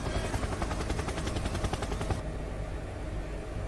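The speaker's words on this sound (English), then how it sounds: "Helicopter! Helicopter!" Helicopter rotor from an air ambulance flight in Microsoft Flight Simulator, a loud steady thumping drone with rapid rhythmic blade chop for about two seconds, then a smoother continuous engine hum.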